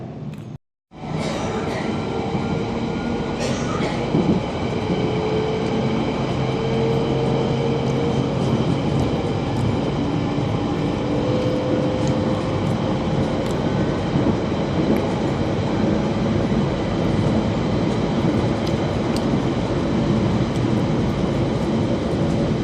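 A London Underground train near Grange Hill rumbles steadily along the track with a loud, continuous roar and faint whining tones, no voices over it.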